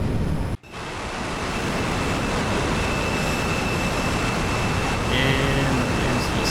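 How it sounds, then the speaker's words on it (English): Afterburner on an F-14B Tomcat in the DCS flight simulator, a steady broadband jet roar that cuts in after a brief dropout and holds loud and constant through takeoff, with no talk. "Now we can afterburn."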